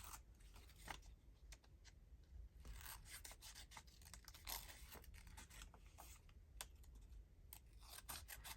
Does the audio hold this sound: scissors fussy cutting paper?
yes